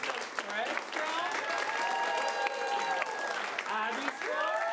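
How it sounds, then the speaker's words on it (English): An improv comedy audience applauds steadily while voices whoop and holler over the top, a sustained wash of clapping and shouting that stays moderately loud throughout. "So let's start that applause."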